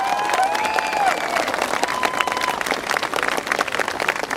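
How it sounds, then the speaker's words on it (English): Warm applause from an audience at a gathering with Polish bikers' representatives, steady dense clapping sustained throughout at moderate loudness, with faint whistle-like tones early on. "Warm applause to Izabela,"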